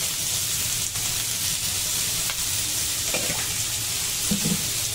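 Mushrooms frying in a pan for a vegetable stir fry, a steady close hiss and sizzle with a few soft clicks and scrapes of stirring near the end.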